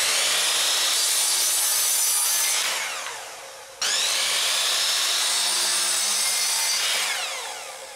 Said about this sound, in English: Now I can cut those pieces in half.